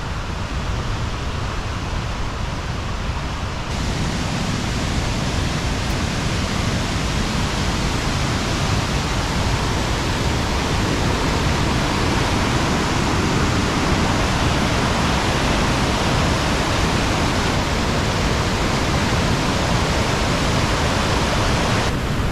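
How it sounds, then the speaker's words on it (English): A man-made waterfall along a bike trail, loud and close, a constant broadband roar of falling water that swells slightly after the first few seconds and holds steady. "coming down to this waterfall, I believe it's man-made"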